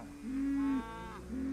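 Cows moo in a farm setting, two low drawn-out calls, the first longer and clearer, over a faint steady background with no talk.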